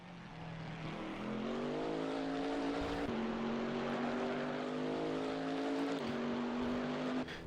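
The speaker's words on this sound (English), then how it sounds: "The United E-Racing BMW coming into the pit lane now with Louis at the wheel." A BMW race car in a racing game rolls into the pit lane, its engine droning steadily with a rising and shifting pitch, loud and continuous throughout with no voices.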